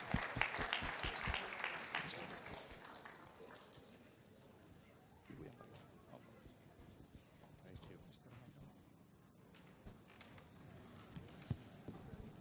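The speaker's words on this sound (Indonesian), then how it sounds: "mari kita berikan tepuk tangan, saudara" Audience applause greeting two speakers at an academic seminar, loud clapping in the first few seconds then fading into scattered claps and room murmur, with voices talking.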